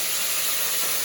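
Hot oil boiling in a pan on a gas stove gives off a steady, dense hiss that holds at an even level throughout, with no voices over it.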